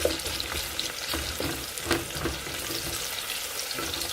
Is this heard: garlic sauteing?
yes